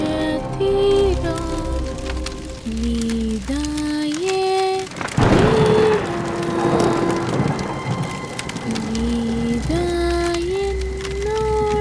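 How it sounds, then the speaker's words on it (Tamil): Rain falls steadily at night as a constant hiss beneath loud eerie synth tones and a sudden rumbling crash, dramatic and dense throughout. "அப்போ உடனே மழையும் பெய்ய ஆரம்பிக்குது."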